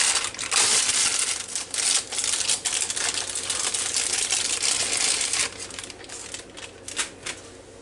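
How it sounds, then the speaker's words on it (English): Close, continuous crinkling and crushing of plastic packaging as a pie crust is pulled out for a cheese quiche, with a few light knocks near the end. "get this pie crust out of here. And get it in this"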